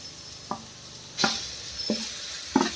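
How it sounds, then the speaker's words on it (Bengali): Potato is stirred into spice mixture frying in a pan for stuffed capsicum, with a steady sizzle broken by four distinct scraping stirs of the spoon, close and clear. "এই আলুটা এর মধ্যে মিক্স করে দেবো।"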